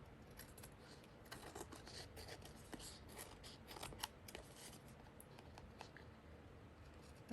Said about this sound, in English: I'm just trimming around the tag there.